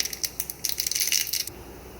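Mustard seeds crackle and pop in a little hot ghee in a pan, a close burst of sharp sizzling snaps that fades out after about a second and a half.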